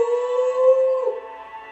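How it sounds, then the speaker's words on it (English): A wolf's victory howl in the Okami video game: one loud, sustained tonal howl that holds steady and then bends down in pitch near its end, heard alone. "Now give one of those victory howls to wake up the Emperor."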